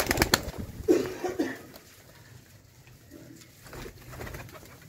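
Golden pigeons coo on a rooftop in soft, throaty bursts, close and moderately loud, with quieter calls and faint background noise between them.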